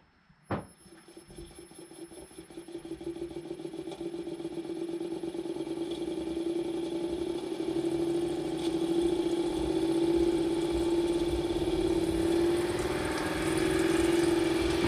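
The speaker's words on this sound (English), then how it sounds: "So we'll go on and spin the centrifuge up." Centrifuge spinning up while processing black diesel, a faint click then a steady motor hum that grows gradually louder and higher-pitched, whining on its own with no talk.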